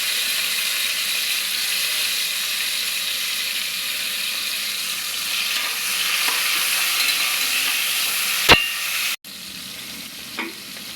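Onion and tomato sauté in a pan for a beef stew, giving a loud, steady hiss of frying that runs unbroken, then a sharp knock and a sudden drop to a quieter sizzle.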